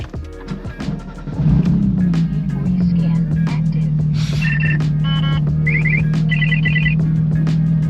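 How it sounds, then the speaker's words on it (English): A dream car's engine fires up for the first time, rising into a loud, steady low drone that holds through the rest, with beeping chimes from the cabin and voices under the engine. "This is the first startup of my dream car."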